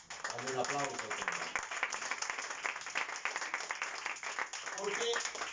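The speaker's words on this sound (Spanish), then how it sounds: "Dale un aplauso, Señor." A church congregation applauds, dense clapping running throughout while voices call out over it at the start and again near the end.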